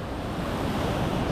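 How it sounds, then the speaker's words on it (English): Ocean waves breaking at a surf spot in Nusa Dua, Bali, heard as a loud, continuous roar of surf with heavy wind buffeting the microphone and no talking. "the waves look fun here"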